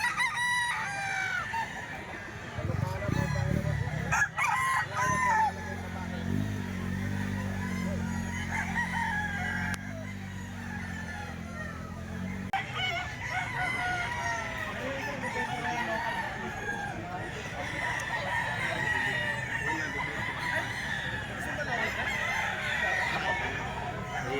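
Gamecocks at a rooster farm crow repeatedly, several loud cock-a-doodle-doo calls overlapping near and farther off, with clucking between them and occasional voices in the background.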